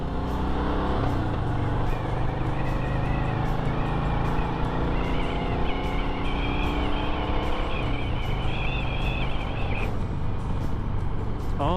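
A Harley-Davidson Sport Glide motorcycle engine rumbling steadily while being ridden, a loud continuous low drone that shifts pitch as it changes speed, with wind noise over it and no talk.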